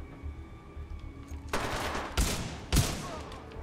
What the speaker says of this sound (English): that shotgun sounds nasty